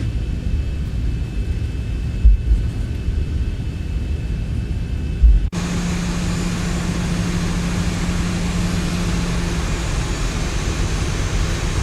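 A Zibo Boeing 737 taxiing in the X-Plane 12 flight simulator, a steady broadband engine rumble with a low hum that holds constant throughout, with no talk.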